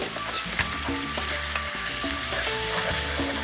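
Spices stirred into a jackfruit curry in a pan, with a close scraping and stirring sound over a gentle, continuous sizzle, no talking.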